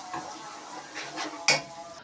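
Garlic-ginger paste browns in a pan with a soft sizzle and a few stirring scrapes, ending in a sharp clink of a utensil against the pan; no voice.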